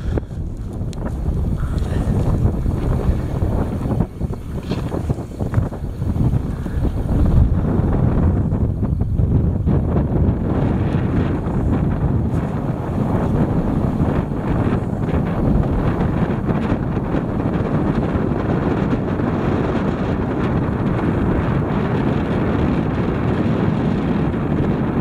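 Strong wind on an Alaskan hilltop with large windmills nearby, a loud continuous rushing roar buffeting the microphone, steady from start to finish with no talk.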